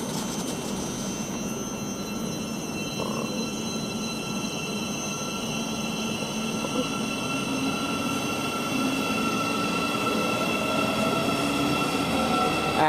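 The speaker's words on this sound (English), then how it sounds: "I think this train is getting ready to depart" A train pulls away from Luton Airport Parkway station with a steady, fairly distant rumble of wheels and rail noise, plus faint high squeal and hiss throughout, no voices.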